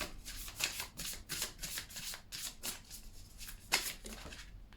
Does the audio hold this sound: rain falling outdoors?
no